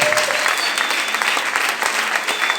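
Church congregation applauding for a member's life during a service, steady dense clapping filling the space from start to end with no break.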